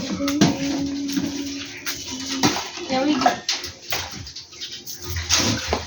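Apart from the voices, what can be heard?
water poured into a tub for coriander planting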